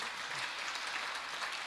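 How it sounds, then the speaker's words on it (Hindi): An audience claps steadily at a religious katha about Khatu Shyam in Sriganganagar, a dense, continuous patter of many hands that holds evenly for the whole stretch. "आप सब ताली बजाओ"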